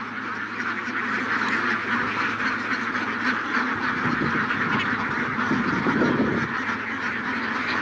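A large roaming farm flock of ducks quacking continuously and noisily, the calls overlapping into a dense, steady chorus.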